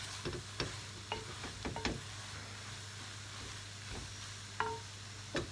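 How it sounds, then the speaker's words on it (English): Coriander being stirred into seafood pasta in a pan, faint soft scraping and light tapping over a low steady hum and gentle sizzle. "Just going to give it a good stir."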